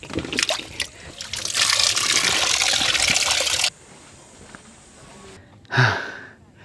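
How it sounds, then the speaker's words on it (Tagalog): Water gushes strongly from a tap or pipe at a campsite washing spot, a loud hissing rush for several seconds that cuts off abruptly, followed by quiet and a brief splash. "Oh, malakas ang buhos nito."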